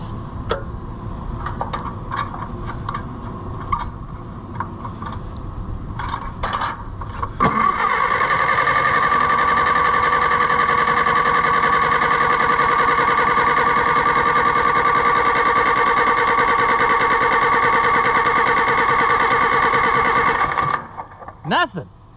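An Allis-Chalmers WD tractor engine cranks steadily and loudly for about thirteen seconds without catching, after scattered clicks and handling noises, then the starter stops abruptly.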